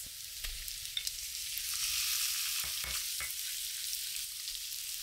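Pork ribs sear in melted butter with shallots and chopped garlic, giving a steady, fairly loud sizzle with a few brief stirring knocks and scrapes, no voices.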